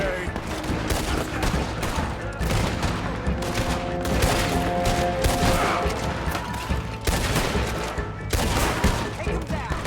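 Rapid bursts of Gatling gun fire and scattered gunshots rattle almost continuously through a Red Dead Redemption 2 bank shootout, loud and dense, with brief pauses between volleys.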